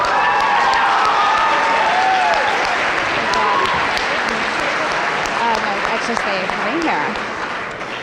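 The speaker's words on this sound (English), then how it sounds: "Let's give her a round of applause." Steady, loud applause from a crowd at a school awards ceremony honoring a third-place poster winner, continuous clapping with scattered whoops and voices, easing slightly near the end.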